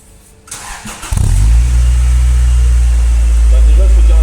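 A Honda del Sol fitted with a new SRS stainless steel exhaust cranks briefly and fires up, then settles into a loud, deep, steady idle close by, with a voice heard over it.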